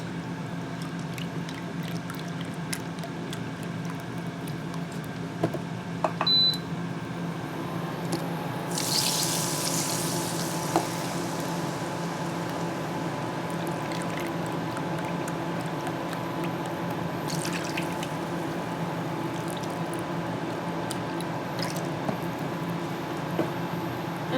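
About 2.5 cups of beef broth poured into a hot pan to deglaze it while making brisket, giving a steady watery rush with a louder burst of sizzle partway through, under a constant kitchen hum and with no talking.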